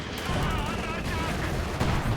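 Coordinated artillery barrage and gunfire in a strategy video game match, a dense continuous rumble of explosions and shots with a sharper blast near the end, as a commentator talks over it.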